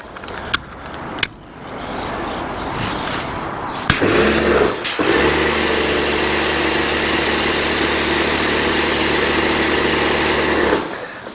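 A pressure washer fitted with a white 40-degree nozzle sprays with a loud, steady hiss and pump hum. A few sharp clicks come first, and then the spray runs continuously.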